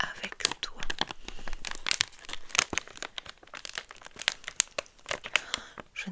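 A Mystery Sand Surprise mystery bag is unwrapped up close, with crisp, irregular bursts of crinkling and tearing plastic and quiet soft speech woven between them.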